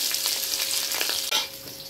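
Salted potatoes fry in a pan with a close, bright crackling sizzle and a brief stirring clack partway through.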